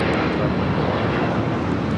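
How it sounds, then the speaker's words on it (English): A United Airlines Boeing 757-200 roars down runway 25R at LAX on takeoff, a loud, steady broadband jet engine rush with no pauses or voices. "1194 taking off to Newark on the 757-200"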